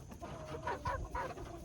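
A rooster that is a French Copper Marans crossed with a Golden Wyandotte gives a few close, clear clucks in a short burst against a quiet farmyard background.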